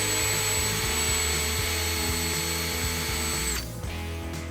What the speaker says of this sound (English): Maybe finish it off with a Scotch-Brite pad?